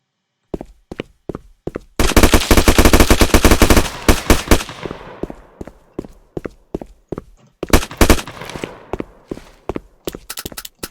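Automatic and single gunfire from a Roblox shooter game modeled on Zula, played in a snowy favela mode, with dense sustained bursts early on, then spaced sharp shots and rapid volleys continuing throughout.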